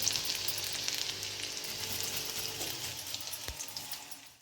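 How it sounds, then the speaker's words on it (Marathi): Grated garlic and ginger fry in a hot pan in a village kitchen, giving a steady close sizzle that runs throughout, with a soft clink near the end as the sizzle fades. "लसूण आणि आलं किसून घालते."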